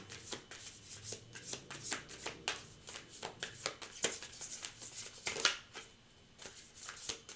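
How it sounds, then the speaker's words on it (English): Crisp, rapid riffle-shuffling of playing cards, a stiff snapping flutter in repeated bursts, close by with no talking. "I don't like the way these cards sound when I shuffle"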